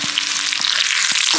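Curry leaves crackle in hot coconut oil with shallots, a dense close sizzle with a few soft thumps underneath.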